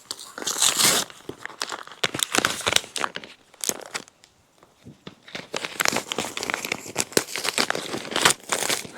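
Paper and plastic packaging crinkles and rustles up close in irregular bursts, briefly quieting midway before more handling resumes.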